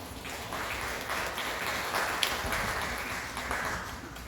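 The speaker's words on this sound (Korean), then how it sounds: "감사의 박수 다시 한번 부탁드립니다" Steady applause from a crowd at a Buddhist summer retreat closing ceremony at Hwaeomsa temple's Gakhwangjeon hall on Jirisan, a dense even wash of clapping that holds throughout without a break.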